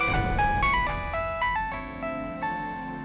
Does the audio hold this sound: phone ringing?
yes